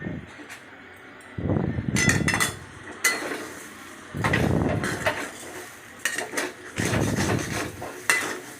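Sugar, chopped cashews and raisins being stirred into a chana dal and coconut mixture in a pan, giving a series of scraping, clattering strokes in bursts at close range.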